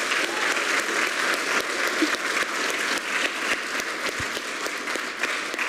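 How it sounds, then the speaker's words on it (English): A church congregation at an Easter Sunday service gives sustained applause, dense even clapping throughout at moderate loudness with no speech over it. "Can we give Lou a big round of applause?"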